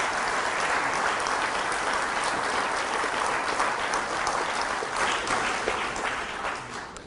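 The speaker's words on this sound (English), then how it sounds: "I was going to ask people to give a round of applause, but you've all done it already." Sustained applause from a lecture audience at a Richard Dawkins talk, a dense, steady wash of many hands clapping at full strength throughout, tapering slightly at the very end, with no voices over it.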